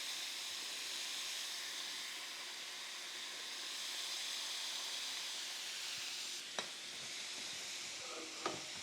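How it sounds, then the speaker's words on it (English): Ground beef sizzles loudly and continuously in a hot pan, with a couple of sharp clicks near the end; no voices. "add the beef right to that pan. Really important. You want to get that sizzle going."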